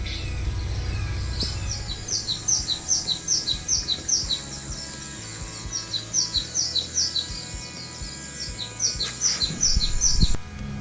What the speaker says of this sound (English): Jim and Trooper watching a cat bird video